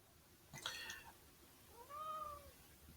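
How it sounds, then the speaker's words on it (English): A cat meows softly near someone's feet, two faint, drawn-out calls a moment apart over quiet room background. "I just heard a cat."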